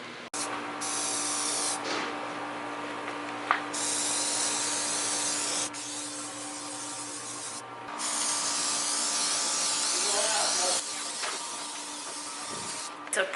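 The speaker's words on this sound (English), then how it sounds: "gonna spray some of this on my tire right now" Several long hissing bursts from a spray bottle of tire shine sprayed onto a car tire, each lasting a few seconds, separated by brief pauses over a faint steady hum.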